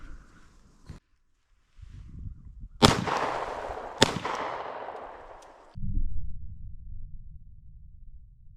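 Two sharp, loud handgun shots fired during shooting practice, about a second apart, each ringing out with a decaying tail, followed by a low steady hum.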